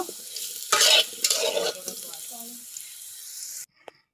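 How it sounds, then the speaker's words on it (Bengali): Potato pieces frying in hot oil in a pan, with scraping stirs over a steady close sizzle that cuts off abruptly near the end, leaving a faint clink. "আমি কিন্তু আলুগুলো ভাজে নিচ্ছি"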